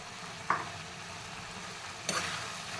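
Potato capsicum gravy sautés quietly in a pan, a faint sizzle broken by two brief stirring scrapes about a second and a half apart.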